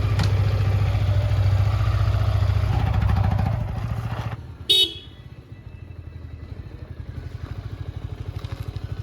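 A Yamaha MT-15 motorcycle starting a ride in Jharkhand, engine idling steadily and loud up close, then dropping to a lighter throbbing putter, with one short sharp horn toot in the middle.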